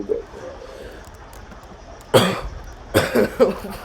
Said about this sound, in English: I just coughed into the microphone.